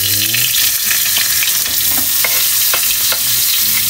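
Onions frying in a pan with potatoes and carrots over medium heat for chicken afritada, a steady loud sizzle with scattered crackles and stirring scrapes, alone throughout.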